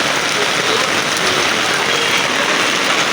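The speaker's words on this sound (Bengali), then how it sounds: "আজকে সকাল থেকে বৃষ্টি, প্রচুর বৃষ্টি হচ্ছে আমাদের এখানে।" Heavy rain pours over a city, a dense, loud and unbroken hiss of drops striking surfaces from start to finish.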